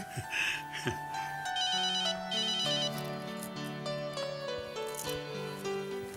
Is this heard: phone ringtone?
yes